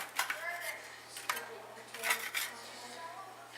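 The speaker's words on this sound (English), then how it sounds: "Now you gotta put the cookies on the cooling rack like I'm doing right now." Freshly baked homemade cookies set down on a metal cooling rack in a home kitchen, giving a few light clinks and scrapes spread across a few seconds, close and fairly soft, with faint voices in the background.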